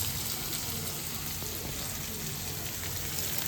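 Chopped onion frying in oil in a pan for a spine gourd (kartule) vegetable dish, a steady close hiss and sizzle that carries on evenly throughout.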